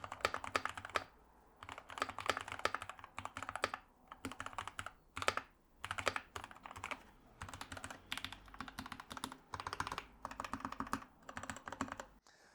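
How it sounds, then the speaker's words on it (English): Rapid bursts of keystrokes on a Keychron K8 Pro mechanical keyboard with brown switches, tactile clacks in uneven runs with brief pauses, close and crisp, no talking. "I have been typing on this keyboard and it feels very good. So just to test out the standard browns."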